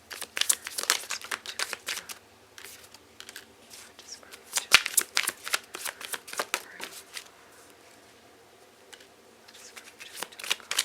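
A deck of tarot cards is shuffled by hand, close up, in repeated crisp riffling bursts and flicks that come and go over about ten seconds, fading to softer handling near the end.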